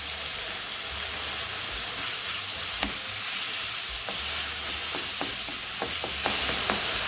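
Minced meat fries in a pan for a Turkish stuffed eggplant dish, giving a loud, continuous sizzle close up, with scattered scraping taps from stirring toward the end.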